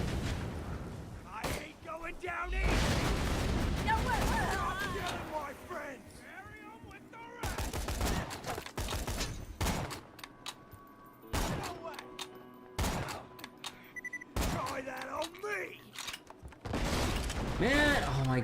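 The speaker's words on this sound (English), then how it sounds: "Sentry deployed! Wait, why is it shooting down?" A deployed sentry turret firing in the video game Borderlands 2, with bursts of loud gunfire and mechanical thumps recurring between stretches of game sound while a person talks over much of it.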